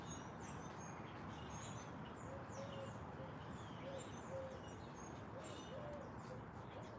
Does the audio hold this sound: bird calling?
yes